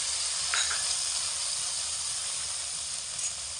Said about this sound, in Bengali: সমস্ত মশলাগুলোকে তেলের মধ্যে দিয়ে দেব। সামান্য করে একটু জলও দিয়ে দেব